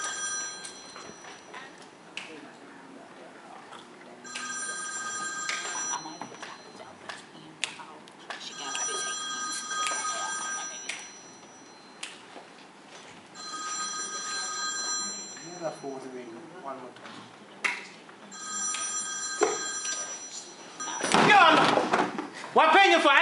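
An old-style telephone bell rings in a salon in repeated bursts with short gaps between them, while people talk underneath, and a loud slam or thud comes near the end.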